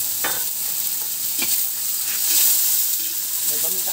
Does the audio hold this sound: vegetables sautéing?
yes